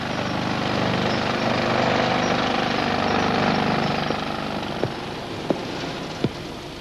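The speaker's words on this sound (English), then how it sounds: "It's literally thrown into the box by a sand slinger." A sand slinger in a foundry hurls backing sand into a casting box, making a loud continuous roaring rush of machinery, followed by a few sharp distinct knocks near the end.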